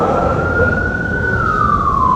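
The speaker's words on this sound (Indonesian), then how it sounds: "Kalau ambulan lewat dulu ada orang sakit atau pejabat lewat." An ambulance siren wails steadily and loudly with a sustained, slowly falling tone over constant road noise, with no one speaking.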